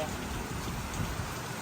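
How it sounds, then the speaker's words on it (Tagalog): Steady rain falling during a typhoon, an even, dense hiss with no breaks, with a voice faintly audible beneath it. "Ay ngayon nabagyo na uli."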